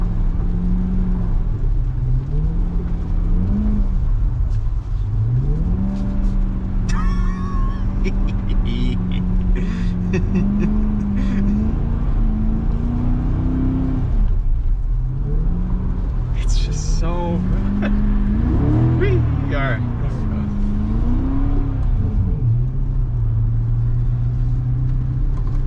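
A 2020 Chevrolet Corvette drifting on ice, its engine droning and revving up and down under throttle with rising and falling whine, loud and continuous, while someone talks over it.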